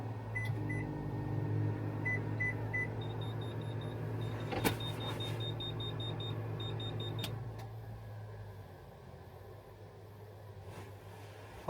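A microwave oven reheating rice hums steadily at close range, with a few short electronic beeps along the way, then cuts off, leaving a quieter background hiss.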